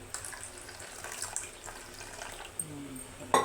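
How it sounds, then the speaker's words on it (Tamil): Water is poured into a pan while lemon rice is being prepared with turmeric, a faint steady trickle running for a few seconds under low kitchen background noise. "லைட்டாக கொஞ்சமாக தண்ணி ஊற்றிக்கலாம்"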